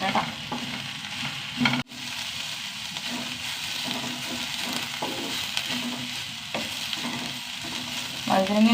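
Eggplant frying in a pan with an even sizzle, stirred in regular scraping strokes close by, with a brief sharp knock near the start and no speech.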